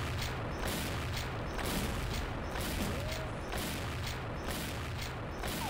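Gunfire in the online shooter XSHOT, rapid cracking shots over a dense, noisy battle background, fairly steady throughout and moderately distant.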